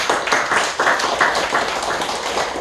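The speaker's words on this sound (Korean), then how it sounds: "하나님 박수 영광 올려드립니다" Church congregation applauding together during a worship service, a steady dense wash of hand claps with slight swells in intensity, moderately loud and continuous throughout.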